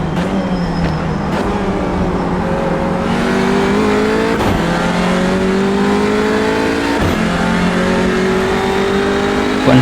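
Audi RMS TCR race car in iRacing at Silverstone, its engine droning loud and close throughout, the pitch repeatedly climbing and then dropping back at each gear change, with no talking over it.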